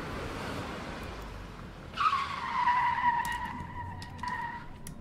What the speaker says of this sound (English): Yo, who is crashing their car right here?